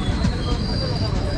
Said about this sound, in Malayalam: ഇത് എവിടേക്ക് പോകുന്ന ട്രെയിൻ?